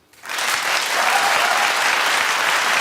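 Talk-show studio audience breaking into loud, sustained applause after a brief quiet moment, dense clapping from many hands filling the room without letup.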